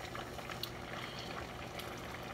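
Pasta cooking in a pot of rapidly boiling water gives a steady bubbling and gurgling texture with small pops, soft and continuous throughout with no talk.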